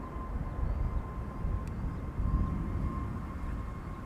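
A TUI Boeing 737 MAX 8 at Amsterdam Schiphol gives a steady low jet rumble with a faint whine, continuous and fairly distant outdoors in crosswind conditions.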